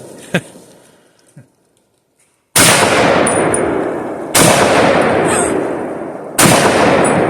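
A scoped Remington 7400 Woodsmaster rifle fires three loud, sharp shots, each about two seconds apart and each followed by a long, roaring echo that slowly fades. A couple of faint knocks come before the shots.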